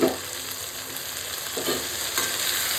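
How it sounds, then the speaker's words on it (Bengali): Onion and spice masala is stir-fried in a hot pan, giving a steady soft sizzle with a few scraping stirs of the spoon, heard up close and alone. "সমস্ত কিছু এবার ভালো করে আবার একটু কষাবো।"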